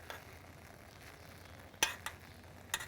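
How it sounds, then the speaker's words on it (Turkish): Cola boiling down in a pan as its sugar caramelizes, a faint steady bubbling sizzle with a few sharp pops and clinks toward the end. "gördüğünüz gibi kolamız kaynamaya başladı"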